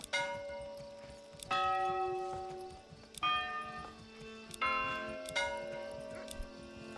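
Customizable village bell in the medieval village-building game Manor Lords, ringing out in four clear, resonant strokes about one and a half seconds apart, each leaving a long ringing decay.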